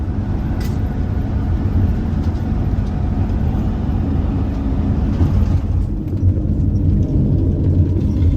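A Winnebago Revel van drives the Alaska Highway at wide open throttle, its engine and road noise forming a heavy, continuous low rumble that stays loud and steady throughout.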